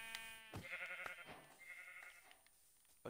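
In the Minecraft video game, a sheep gives a couple of short, wavering bleats, quiet and isolated, with no voices over them.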